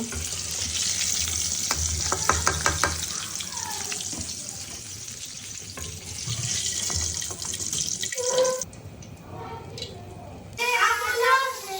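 Chicken pieces sizzle loudly in hot mustard oil, a steady close crackle with stirring clatter. Near the end it gives way to quieter clinks and a brief burst of bubbling.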